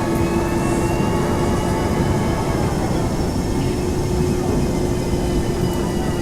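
Boeing 737-200 taxiing in X-Plane 11, a steady, loud jet engine whine and rumble with a constant humming tone, unchanging throughout.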